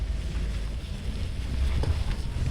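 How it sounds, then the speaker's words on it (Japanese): Mitsubishi Triton in manual first gear, engine braking downhill off-road with no brakes applied: a steady low engine drone under heavy wind buffeting, continuous and fairly loud. "エンジンブレーキ効く。"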